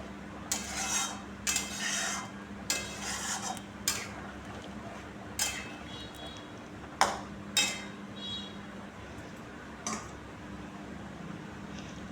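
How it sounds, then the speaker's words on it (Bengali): A metal spatula stirs egg posto curry with fried eggs, capsicum and onion in a simmering pan, giving repeated irregular scrapes and clinks against the pan over a steady low cooking hum. "দিয়ে একটু খুন্তি দিয়ে নেড়ে দিতে হবে"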